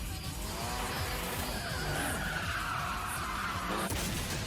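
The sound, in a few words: car drifting with tires skidding, from the film Tokyo Drift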